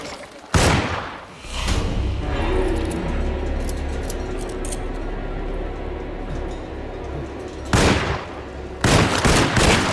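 Gunfire in the Alone in the Dark video game, with a few loud sharp shots at the start and a burst of repeated bangs near the end over a rumbling game soundtrack.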